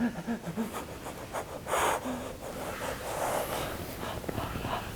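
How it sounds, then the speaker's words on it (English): Spontaneous mouth breathing during a somatic energy release session: a series of loud, close, uneven breaths with gasps, snorts and panting bursts, alone without speech. "The breath pattern that's happening is spontaneous and it's arising."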